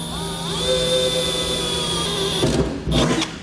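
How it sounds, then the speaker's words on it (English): A power drill with a small bit whines steadily at high speed, close by, then briefly bites and chatters as the bit cuts in near the end, drilling pilot holes in a Ram truck bed. "we're going to drill out these 4 locations with a small drill bit to get our pilot hole started"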